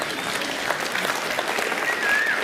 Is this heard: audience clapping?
yes